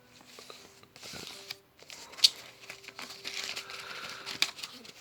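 A paper envelope holding world banknotes is handled and torn open up close, with soft crinkling, rustling and a few sharp tearing snaps at a quiet level, no talking.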